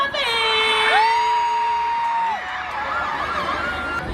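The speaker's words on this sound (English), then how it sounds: "put your hands together and scream" A large outdoor crowd at the Blackpool Illuminations light switch-on screams and whoops loudly, sustained high shrieks and cheering that stay strong and slowly ease off.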